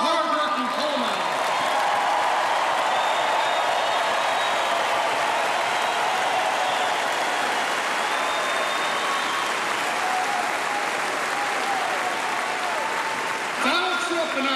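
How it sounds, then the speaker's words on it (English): Dense, sustained crowd applause fills a West Virginia political rally as the audience honors local coal miners, with scattered cheers and voices mixed in before it tapers off near the end. "A round of applause for our hard-working coal miners."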